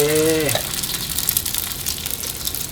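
Eggs frying in a hot pan give a steady, dense sizzle and crackle that carries on to the end, after a brief voice at the very start.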